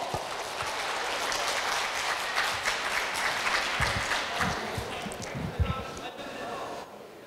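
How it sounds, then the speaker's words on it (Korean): Audience applause at an anniversary charity event welcoming the club president to the stage, a steady, moderately loud wash of clapping from a seated hall that holds for several seconds before thinning out. "큰 박수로 모셔주시기 바라겠습니다"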